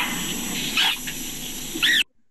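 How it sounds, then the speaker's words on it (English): Dugong calls in an underwater recording, high chirping squeaks resembling a small dog or puppy whimper, two brief rising-falling calls over a steady hiss of water noise, ending abruptly. "This is what a dugong sounds like."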